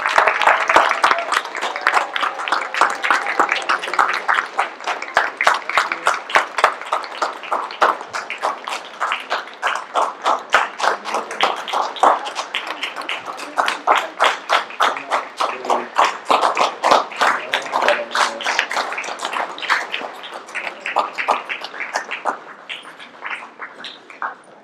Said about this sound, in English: Let's give our co-chairs a round of applause.